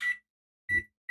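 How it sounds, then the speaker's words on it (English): Kitchen timer being set for potatoes, giving three short, sharp electronic beeps spaced irregularly with silence between, close and clear. "I'm going to set the timer here"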